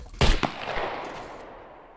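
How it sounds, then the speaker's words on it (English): A single sharp gunshot fired in the survival video game SCUM, loud and close, followed by a long echoing tail that fades away over the next second and a half. "So even if I let off a shot now, it shouldn't make much difference."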